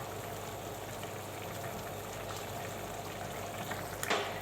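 Apricots and raisins simmering in syrup for a sweet meatless tajine, a soft steady bubbling hiss throughout, fairly quiet and close, with a brief small clink near the end.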